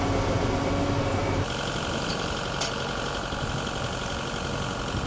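A planting vehicle's engine runs steadily while being driven, a constant close rumble with a slight shift in tone after the first second and a couple of faint clinks over it.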